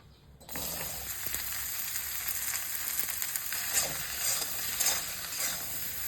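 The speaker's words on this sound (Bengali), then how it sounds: "এই তেলেতেই চিচিঙ্গাগুলোকে নুন হলুদ দিয়ে ভেজে নেবো" Snake gourd pieces fry in hot oil with salt and turmeric, a steady bright sizzle starting suddenly after a brief quiet and crackling on close and continuous, with occasional stirring clinks.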